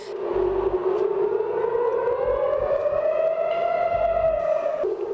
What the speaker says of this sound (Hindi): केंद्रीय इजराइल के बेईत शेमेश और दक्षिणी वेस्ट बैंक इलाके में हवाई हमलों के सायरन बजने लगे